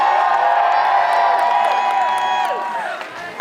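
A crowd at the rain-shortened Psicocomp 2015 climbing finals cheers on a climber, with loud, sustained whooping and rising and falling voices throughout that taper slightly toward the end.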